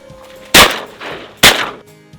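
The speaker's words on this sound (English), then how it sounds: "the old shotgun performed just fine" A restored old shotgun fires two loud, close blasts about a second apart during early-season duck hunting, each with a short echoing tail and faint ambient noise around them.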